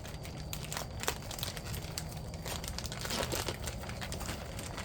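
A plastic bag crinkles and rustles as it is opened, giving quiet, close, irregular crackles that continue throughout.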